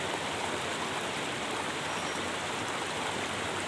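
Rushing water flows steadily, a constant broadband roar like a river or stream nearby, with no voices.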